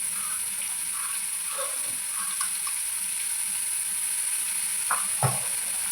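Onion frying in oil with a pinch of asafoetida, a steady high hiss with a few light clinks and a soft scrape near the end, close and without voices.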